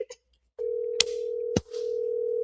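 Phone dial tone on a regular telephone, a steady held tone broken by two sharp clicks, heard close and alone after a couple of faint blips.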